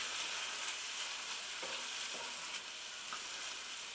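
Mushrooms sizzle in a hot pan for a vegan mushroom and pepper stroganoff, a constant bright hissing fry with a few faint crackles and stirring taps, close up.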